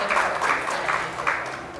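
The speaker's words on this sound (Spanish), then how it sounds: "desde luego fuerte el aplauso." Applause at a parliamentary delegation meeting, a dense patter of clapping at moderate level, swelling in small bursts over a steady background.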